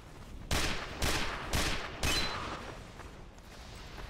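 Four sharp gunshots in the video game Team Fortress 2, evenly spaced about half a second apart, each a loud crack with a decaying tail, followed by quieter game ambience.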